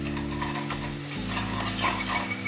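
Mustard seeds and ginger sizzle in hot oil in a pan while preparing Indian palak paneer, a steady close crackle with a low hum running beneath it throughout.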